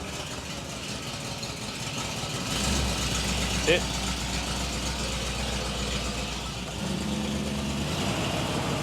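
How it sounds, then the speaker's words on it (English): A car with a fuel leak and a knackered transmission idles and is given a few revs, its low engine rumble rising briefly twice, while someone speaks briefly over it. "Give it a few revs, because that transmission's knackered"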